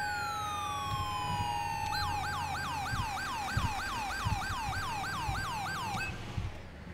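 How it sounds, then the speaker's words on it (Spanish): Emergency sirens in the FIRECALLOUT firefighting video game at a highway accident scene: a long descending wail gives way to a rapid repeating yelp, loud and close, over a low engine rumble, with no talking. "Mira, siguen saltando las alarmas ahí"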